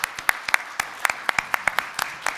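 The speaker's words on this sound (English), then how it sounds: "help me welcome them with a round of applause" A small audience gives scattered, distinct handclaps in welcome for speakers at a fireside chat, loose and uneven rather than a dense roar, with no voices over it.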